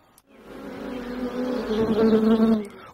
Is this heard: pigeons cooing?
no